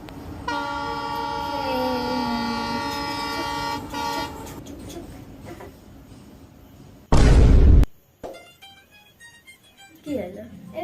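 A passing train sounds a long, steady horn blast for several seconds, followed by a sudden loud burst and then voices talking near the end.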